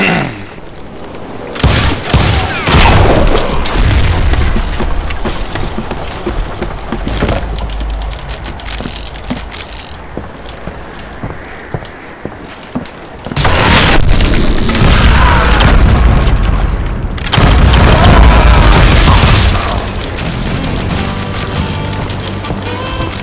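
Dynamite explosions in the Western shooter game Call of Juarez: Gunslinger, several loud booming blasts with crashing debris and gunfire, heavy bursts at the start, middle and near the end with rumbling between.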